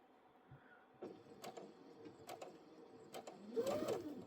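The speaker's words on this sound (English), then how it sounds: "I'm going to sew it upside down" A sewing machine stitches a quilt block, with the seam sewn upside down so it stays pressed open. It makes a steady mechanical whir with a few brief bursts and grows louder toward the end, up close and without talking.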